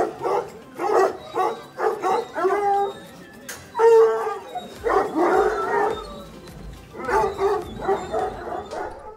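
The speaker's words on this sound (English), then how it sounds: "The hungry hounds mill around in their kennel, baying and yelping when they know it's almost time to eat." A pack of hungry tricolor Anglo-French hounds in a château kennel bay, howl and yelp together in overlapping drawn-out cries, loud and close, rising and falling in waves.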